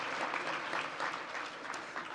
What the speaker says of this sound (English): Good applause for that.